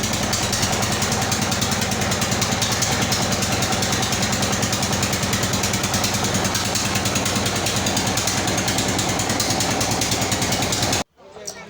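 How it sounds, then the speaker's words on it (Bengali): A trawler boat's engine knocks and thumps in a fast, steady rhythm, loud and close, and runs without a break for about eleven seconds before stopping abruptly. "এই তো আমরা ট্রলারে উঠে পড়েছি।"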